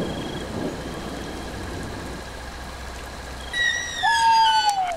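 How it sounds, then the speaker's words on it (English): Rain and rumbling thunder from the Boogeyman 2 video game form a steady, moderately loud storm wash, broken near the end by a sharp, rising tonal sting. "Thunder and lightning!"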